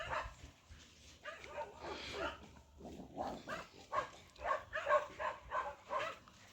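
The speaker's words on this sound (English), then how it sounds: "And you hear the dogs, guys." Several dogs bark in a garden, a series of sharp, fairly distant barks and yips with a few soft whimpers, coming in clusters over steady outdoor background.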